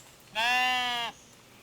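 One clear sheep bleat from the video game Tiny Glade, a single sustained wavering call of under a second, close and distinct against a quiet background.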